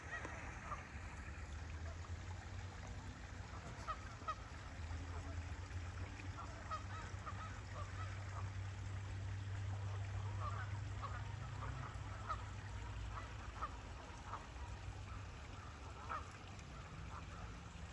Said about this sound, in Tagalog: Mga wild duck.